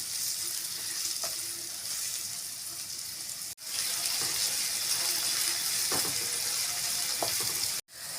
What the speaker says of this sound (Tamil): பொடியாக கட் பண்ண ஒரு வெங்காயம் சேர்த்துக்கலாம். நல்லா வதக்கி விட்டுக்கோங்க.